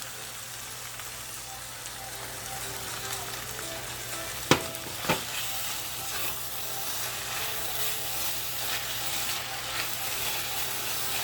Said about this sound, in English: Now going in with my bouquet garni and my lentils.